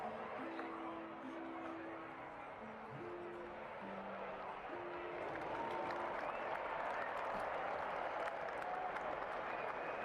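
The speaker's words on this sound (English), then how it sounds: "you begin to hear the crowd" Cheering and applause from an arena crowd swells in from a distance behind a soft, low musical drone, growing fuller and denser toward the end.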